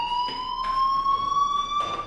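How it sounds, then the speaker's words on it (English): A school fire alarm in the video game Life is Strange Remastered rings as a steady, loud electronic tone that holds continuously, with faint rhythmic pulses underneath and no voices. "do you hear that fire alarm?"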